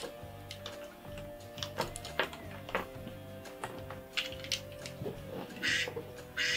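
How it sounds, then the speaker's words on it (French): A duck quacks faintly several times, mixed with light clicking like plastic LEGO bricks being handled, with a few brief voices in the background. "Il m'a fait tellement peur ce canard."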